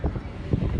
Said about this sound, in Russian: Ветер достаточно ощутимый